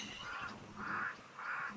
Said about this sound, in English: You can see the crows around on the edge, both pied and cape crows.